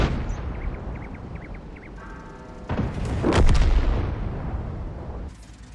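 Gunfire in the Western game Red Dead Redemption 2: a couple of booming shots and a heavy blast ring out amid outdoor ambience and faint bird calls, with no one talking.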